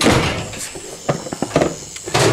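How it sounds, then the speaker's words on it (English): A door is shut in a home kitchen, giving a few close knocks and a sliding, closing thump in quick succession, with no talking. "Can you shut that door behind me, please, Tat?"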